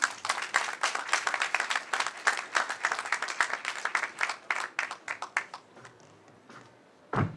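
An audience at a staged mock trial about remote work applauds in a full burst that thins to scattered claps and fades to near silence, with a final short clap at the end.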